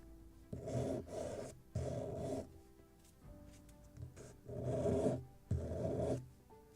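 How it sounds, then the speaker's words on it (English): Burnt edges of laser-cut wooden kit parts for a Muscongus Bay lobster smack model being sanded with sandpaper wrapped on a wood block, five or six rhythmic back-and-forth rasping strokes, close and fairly quiet, no talk. "So I just will use a piece of wood with sandpaper, and we'll do it like this."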